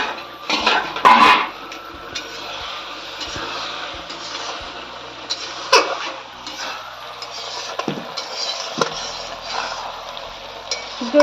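A pot lid comes off a pot of boiled jackfruit and potatoes with a few metallic clinks and knocks, then quiet kitchen clatter with scattered soft taps.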